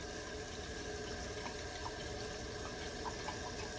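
Tap water runs steadily into a measuring cup being filled with about two cups of warm water, a constant, even rushing with no voices.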